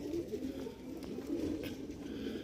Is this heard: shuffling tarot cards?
no